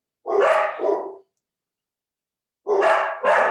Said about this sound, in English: Maybe the dogs will get quiet.